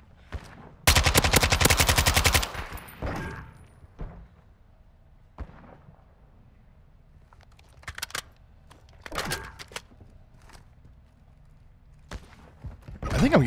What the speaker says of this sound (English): I think I'm getting shot at.